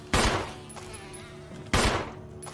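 Two loud, booming gunshots about a second and a half apart in Resident Evil HD as a hornet is shot down, each with a long fading tail over a quiet game ambience.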